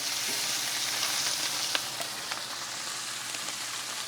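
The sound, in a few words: chuck steaks searing in a hot pan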